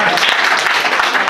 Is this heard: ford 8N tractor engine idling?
no